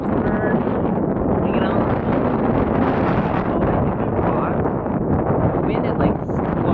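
Strong wind buffets the microphone in a constant loud roar, with gusty rumbling throughout and no clear pauses.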